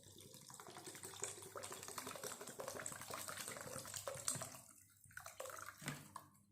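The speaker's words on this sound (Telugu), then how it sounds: "ఇప్పుడు మనం వాటర్ని కూడా యాడ్ చేసేసుకుందాం" Water splashes and gurgles steadily into a pot of eggplant curry for several seconds, then trails off into a few scattered clinks and drips.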